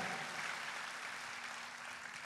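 A church congregation applauding during a Christmas service, a steady, fairly faint wash of clapping hands filling the whole short stretch with no talk over it.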